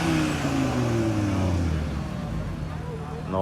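At a car meet, a car engine revs loudly with exhaust pops, a sustained mid-to-low roar that eases slightly toward the end, with crowd chatter underneath.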